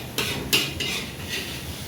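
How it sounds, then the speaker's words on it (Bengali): Metal spatula scraping and stirring potatoes in a pan, a few short clinks and scrapes close up, no voices. "রাঁধুনি খুব খুন্তি নাড়ছে এখন।"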